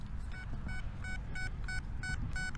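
A metal detector sounds over a target in a field being searched for silver and gold. About seven short, evenly spaced beeping tones repeat over a steady low outdoor rumble, with no talking.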